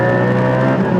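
A Porsche 718 GT4 fitted with an Akrapovic exhaust drones loudly and steadily up close, its engine note holding a strong, even rasp throughout with no talking.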